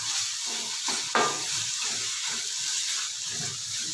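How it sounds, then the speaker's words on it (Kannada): Turmeric masala frying in hot oil for South Indian chitranna lemon rice: a steady, dense sizzle runs throughout, with a brief louder stir-like scrape near the start. "ಇದು ಚೆನ್ನಾಗಿ ಎಣ್ಣೆ ಬಿಡೋವರೆಗೂ ನಾವು ಫ್ರೈ ಮಾಡ್ಕೋಬೇಕು."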